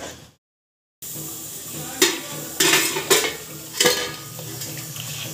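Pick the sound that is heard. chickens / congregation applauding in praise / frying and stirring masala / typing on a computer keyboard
frying and stirring masala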